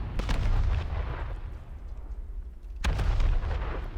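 Warship cannons in the War Thunder Mobile naval game boom heavily and bassily, a dense rumbling salvo at the start and a sharp fresh blast near the end, loud and close with no talk.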